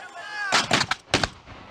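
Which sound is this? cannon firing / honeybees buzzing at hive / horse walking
cannon firing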